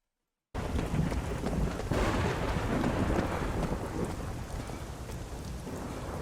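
Thunderstorm from a K-pop music video: steady heavy rain with rumbling thunder and gusty wind noise begins abruptly after a brief silence and continues loud and dense to the end, with no voices.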